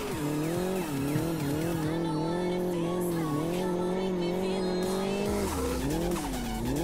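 A car spins out during a hard drive, its tires squealing loudly in long wavering tones over a steady engine roar, ending in a lower rumble as it slides to a stop.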